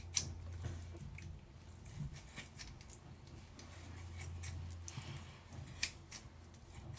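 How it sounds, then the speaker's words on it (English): Sharp kitchen scissors snip through raw chicken breast in a quiet kitchen, making a few soft wet crunches and squishes at irregular moments over a low steady hum, with no talking. "these are my kitchen scissors for cutting through meat"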